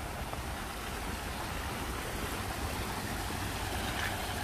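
Waterfall in a rhododendron garden, a steady broadband rush of falling water heard from a short distance, constant and even with no talking.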